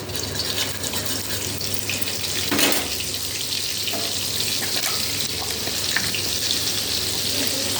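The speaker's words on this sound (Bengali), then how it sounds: "তেলটা গরম হয়ে গেছে, এবার এর মধ্যে একটু বাটার দিয়ে দেবো" Butter sizzles and fries steadily in hot oil in a pan while cooking chili paneer, a continuous close crackle with brief clinks and stirring noises throughout.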